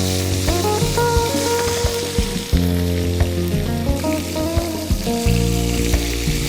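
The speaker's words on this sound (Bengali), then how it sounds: "আমরা খুব সাবধানে মাছটা উল্টিয়ে ভেজে নেব।" Ajwain-spiced fish frying in a pan for fish biryani, a dense, loud crackling sizzle heard up close alongside a sustained tonal hum and occasional clatter as the pieces are turned.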